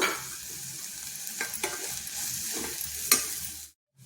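Ground ridge gourd peel paste frying in a pan, a close, steady sizzle broken by several scraping stirs of a spoon, no voices, ending abruptly in silence.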